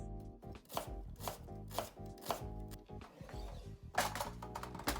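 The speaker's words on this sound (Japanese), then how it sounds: "みじん切りにしていきます。" A knife minces garlic in quick, uneven bursts of sharp chops, close and crisp, over a steady tonal background with no talking.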